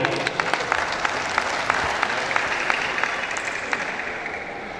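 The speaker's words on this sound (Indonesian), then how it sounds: "Tepuk tangan Bapak Ibu." Steady applause from an audience at a church Christmas celebration of a family social association in Mimika, a dense wash of clapping with a few sharper individual claps standing out, sustained and even throughout.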